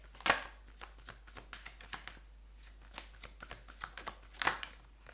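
Tarot cards being shuffled by hand, a quick run of light riffling flicks and snaps, close and soft, without speech.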